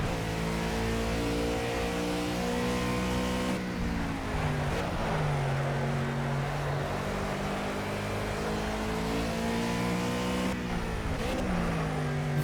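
A race car engine in the Project Cars game on the Watkins Glen circuit, loud and sustained, revving high with pitch drops at gear shifts around four and eleven seconds, no talk.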